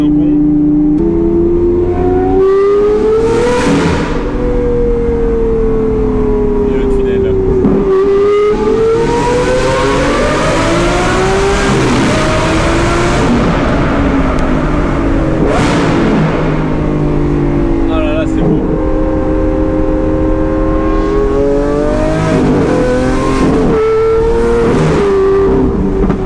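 A Lamborghini Aventador with a Gintani exhaust revs hard inside a tunnel, its loud engine note climbing and falling in several long sweeps with sharp bursts, heavy echo throughout.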